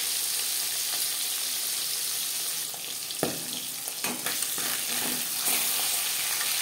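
Katla fish pieces frying in oil in a pan: a constant, close, loud sizzle with a few spatula knocks and scrapes partway through, no talking.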